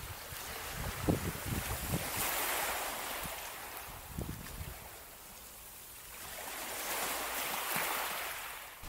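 Wind gusts sweep across the sea shore on the North Kent coast at Whitstable, a steady breathy rush that swells and fades, mixed with surf and a few low bumps near the microphone.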